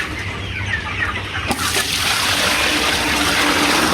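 Broiler chickens on a poultry farm clucking together as a dense, continuous flock chatter, fairly loud and close, with a brief clatter partway through.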